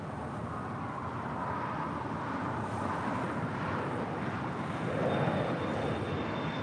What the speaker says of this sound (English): That is the Austrian 777-200ER coming in from Vienna